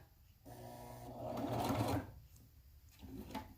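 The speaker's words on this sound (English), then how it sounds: "This is the worst stitching ever because I'm at a weird angle." A sewing machine stitching a wax sandwich bag booklet, a close mechanical whir that runs for about a second and a half, pauses, then briefly resumes.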